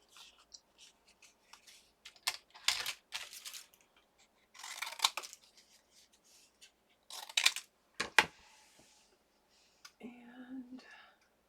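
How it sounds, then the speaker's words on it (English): Scissors snip through paper scraps at a crafting table while making inlay die-cut cards, giving short dry cutting bursts spaced irregularly, close and fairly quiet, with paper rustling and handling noises between them. "I've got some scraps here. Just going to cut these out."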